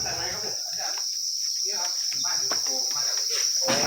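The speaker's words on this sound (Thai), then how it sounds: "เพื่อนๆนะครับผมดูจิ้งหรีดเยอะแยะเสียงร้องระงมเลยนะครับ" Masses of crickets at a cricket farm shrill in a dense, unbroken high-pitched chorus, loud and continuous, with softer rustling and low sounds beneath.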